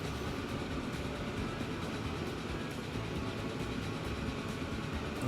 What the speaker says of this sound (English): There is one of our sister trains.